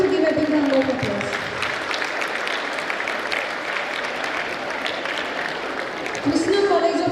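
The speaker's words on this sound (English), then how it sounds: "I request everyone to give a big round of applause" Applause from an audience at a college commerce department event in Hosur, sustained clapping from many hands filling the room, with a voice speaking over the start and end.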